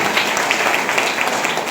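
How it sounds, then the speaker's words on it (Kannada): An audience at a live comedy performance clapping together, a dense, even patter of many hands held at a steady loudness throughout. "ಇವತ್ತು ಅವ್ರಿಗೆ ಸೇರಿ ನಾವು ಜೋರಾದ ಚಪ್ಪಾಳೆ"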